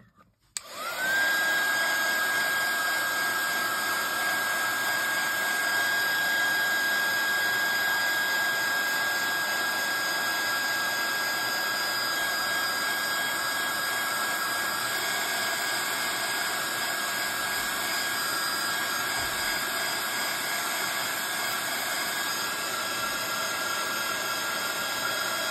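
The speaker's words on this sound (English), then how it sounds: "I'm going to put my heat tool onto this just to dry off the paint" Heat tool blowing to dry paint on a craft piece, a loud steady whirring roar with a high whine that starts abruptly and runs unbroken close by.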